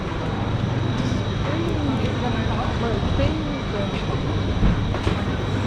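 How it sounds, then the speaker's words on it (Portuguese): A metro or train rumbles steadily on a viaduct overhead in London, a continuous low, fairly loud roar with faint clatter running through the whole stretch, and a voice speaks underneath it. "eu acho que ou é o metrô ou é trem que passa aqui por cima no viaduto."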